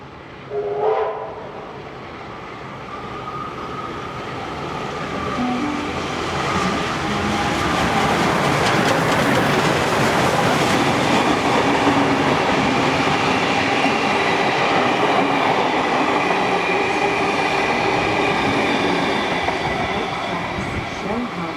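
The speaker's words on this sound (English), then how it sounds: "as the engine heads its way to Scarborough once again" Locomotive 4403 leading a train near Wollongong on the New South Wales railway rumbles past loudly, a brief horn-like tone at the start, then a sustained roar of engine and rolling wagons that swells and slowly eases.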